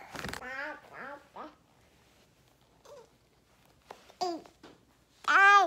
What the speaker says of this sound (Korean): 그럼 이거 삐약삐약 울어요. 노란 병아리